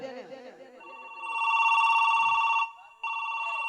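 A telephone rings in a Kannada village stage drama: brief talk, then a loud, steady electronic ring lasting almost two seconds, a short gap, and a second ring starting.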